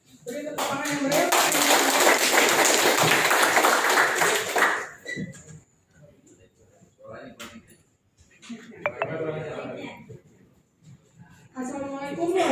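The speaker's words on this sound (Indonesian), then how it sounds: "Beri tepuk tangan yang meriah" A crowd at a political volunteer rally in Jakarta bursts into loud, dense clapping and cheering for about five seconds, then a speaker talks over quieter gaps with brief scattered claps.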